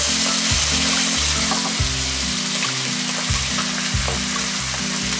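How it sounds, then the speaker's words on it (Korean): Canned tuna and its liquid stir-fried over high heat for mapo tofu rice, crackling in a continuous loud sizzle over a pulsing low hum, with no one talking. "참치는 국물째로 넣어서 같이 볶아줍니다."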